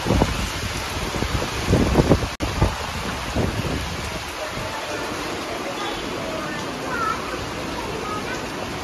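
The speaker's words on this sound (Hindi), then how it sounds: "आज सुबह से ही बारिश हो रही है, शाम हो चुकी है, अभी भी बारिश बंद नहीं हो रही है" Heavy rain pours outdoors on an all-day wet evening, a dense steady hiss with wind rumble and microphone buffeting, louder bursts early on and a brief dropout, then an even wash of downpour.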